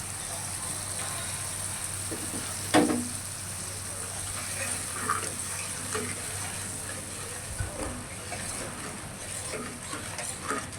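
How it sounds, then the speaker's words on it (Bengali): A splash of water goes into sizzling spice paste for a chicken kofta curry, giving one sharp burst near the start that settles into a steady, quiet frying hiss for the rest. "এবার দিয়ে দিব সামান্য পানি।"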